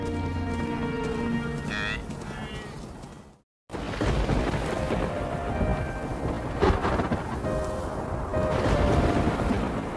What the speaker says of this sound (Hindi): बारिश के मौसम में गरज भरे तूफान लगभग रोज ही आते रहते हैं